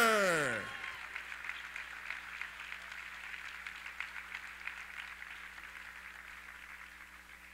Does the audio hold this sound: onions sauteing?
no